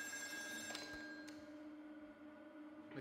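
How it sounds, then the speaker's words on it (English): A telephone rings faintly inside the horror game Still Wakes the Deep, set on an offshore oil rig, its thin bell tone sitting over a steady low rumble of background ambience. "Oh, phone."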